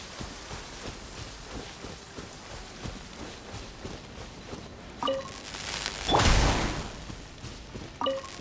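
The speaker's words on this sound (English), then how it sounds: "Let us find shelter from the rain." Steady rain in the video game Genshin Impact patters across the scene with scattered drops and splashes, a whooshing gust swelling near the end amid soft clattering footsteps.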